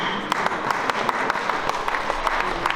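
An audience applauds for the commune of Néroux in the Var at a prize-giving ceremony, with steady crowd clapping and a few sharp individual claps standing out, moderately loud throughout.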